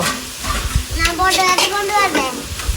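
Onions and fennel seeds sautéing in a huge pot for a wedding feast, a loud close sizzle with stirring scrapes running under people talking.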